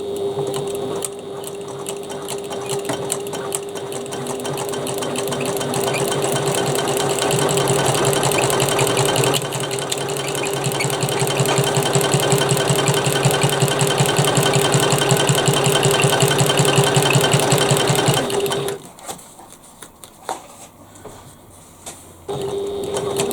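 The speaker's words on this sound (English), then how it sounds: "take it to the machine and stitch at 1/4 inch seam allowance" A sewing machine runs steadily, stitching a quarter-inch seam on a Shamballa-style Molly bag. The motor hums continuously and rapidly for about eighteen seconds, then stops, leaving quieter handling noise.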